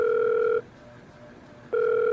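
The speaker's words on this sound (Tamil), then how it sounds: "அவரோட பெஸ்ட் ஃப்ரெண்ட் பரமுக்கு ஃபோன் பண்ணாரு தோனி." A phone call rings out on the line, a steady electronic ringback tone lasting about half a second, a one-second pause, then the tone again, clear and even.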